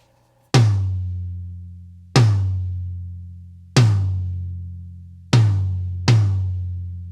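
An undampened rack tom is struck five times, each hit a loud, close, booming thud with a long ringing sustain that fades slowly, with the last two strikes coming closer together and no voices.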